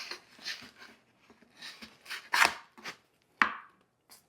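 A bread knife saws through a loaf of hard, crispy bread meant for garlic bread, giving close, crunchy rasping strokes in uneven bursts with brief pauses between cuts.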